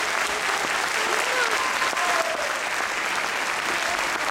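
Sustained, dense applause from a theatre audience at a club show at the Théâtre de l'Hôtel de Ville in Le Havre, steady and full throughout with faint whistle-like tones drifting above.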